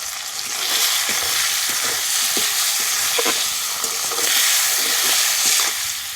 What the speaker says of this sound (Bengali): সামান্য একটু জল দিয়ে মশলাটা কষিয়ে নেব